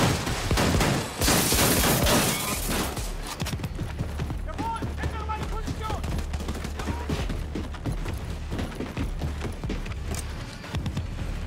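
Shotgun blasts in the video game Wolfenstein 2 The New Colossus, a dense burst of loud, close gunfire up front that gives way to scattered shots and game noise, with a voice talking over parts of it.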